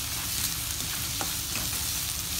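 Capsicum being stirred into onions frying in a pan, with a continuous loud sizzle and faint scraping of the stirring utensil throughout.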